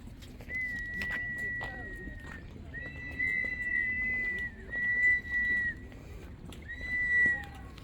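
Toy whistles imitating bird and jaguar calls at the Teotihuacan pyramids in Mexico, several shrill sustained tones repeating at intervals, moderately distant over faint outdoor crowd murmur.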